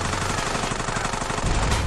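Rapid automatic gunfire from shooting in the video game GTA San Andreas on PS5, a dense steady stream of close, loud shots filling the whole moment without talk.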